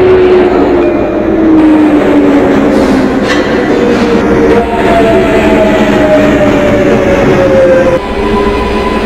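An R142A subway train on the 4 line, recreated in the OpenBVE train simulator game, runs steadily with a loud continuous rumble, rail clatter and a gliding motor whine, ending in a brief dip.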